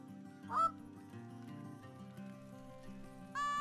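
Canada geese in Call of the Wild give two distinct honks, one near the start and one at the end, over a quiet, steady ambient bed of wind and game atmosphere.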